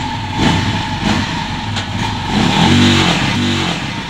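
A Rusi 175 motorcycle engine on a road test growls steadily, its revs swelling and easing in a loud, close, continuous drone.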